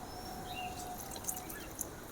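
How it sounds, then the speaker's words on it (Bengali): Goat meat is rinsed under running water, a faint, steady trickle and splash with a few small drips, with no talk. "খাসি মাংসকে ভালো করে বেছে আমি ধুয়ে নেব"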